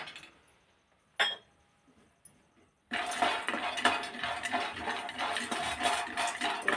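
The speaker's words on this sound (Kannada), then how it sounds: "ಇದು ಸ್ವಲ್ಪ ಬಾದಾಮಿ ಫ್ರೈ ಮಾಡ್ಕೊಳ್ಳೋಣ" Almonds dry roasting in a kadai without ghee start with a near-silent pause and a couple of sharp metallic clinks, then a loud, steady rattle and scrape of nuts being stirred across the metal.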